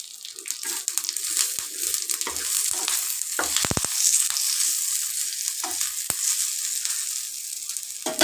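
Curry leaves and cumin sizzle in hot oil for South Indian dahi vada tempering: a steady close crackling hiss throughout, with a few sharper spattering bursts near the middle.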